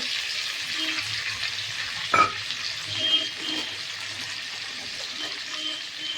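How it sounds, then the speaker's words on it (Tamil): Onion, tomato and garlic sautéing in a pan, a steady loud sizzle and crackle throughout with a couple of brief louder stirring scrapes, no talk. "இது நல்லா வதக்கிக்கலாம்"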